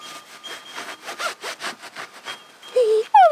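Tire shine being rubbed onto the sidewall of a car tire at a car wash, a series of short, close rhythmic swishing strokes followed by a couple of brief squeaks.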